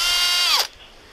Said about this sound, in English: thanks to this drill, they've been able to pass through a wall which was this wide, about 50 centimeters